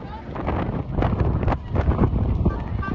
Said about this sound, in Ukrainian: Блін, всіх просто вітром зносив.